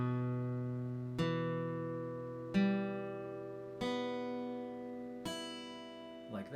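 Guitar strings are plucked one by one starting from the top string, five distinct notes roughly a second apart, each ringing and decaying before the next.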